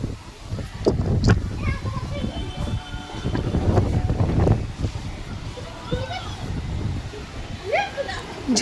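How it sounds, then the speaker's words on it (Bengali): Strong wind gusts outside a house, making a continuous rumbling roar that swells and eases, with leaves rustling and a few faint bird calls cutting through. "ঘরের হাওয়াটা শুধু আওয়াজটা শোনো।"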